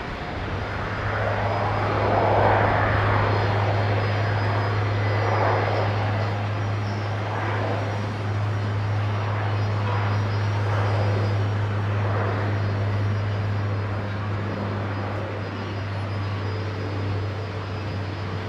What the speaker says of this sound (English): Dash 8, Q400, next departure going off of 19 left